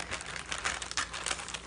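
Crisp crinkling and rustling of a plastic gummy candy packet being cut open with scissors, a steady close-up crackle with small bursts, fairly quiet.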